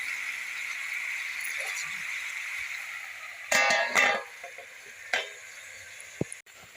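Vegetables for a sabzi sizzle steadily in a pan, a soft continuous frying hiss joined by a few clattering stirs and utensil knocks.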